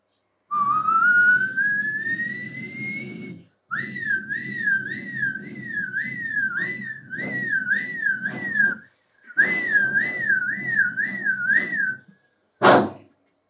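A mimicry artist on stage at a mimicry festival whistles an ambulance siren: a long rising wail, then fast repeated up-down warbles in two bursts separated by pauses, ending with a brief sharp burst, loud and alone.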